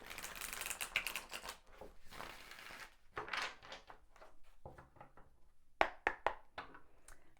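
Tarot card deck shuffled by hand in a quiet room, giving soft riffling flutters and papery rustles, then a few sharp snapping taps as the cards are squared and set down.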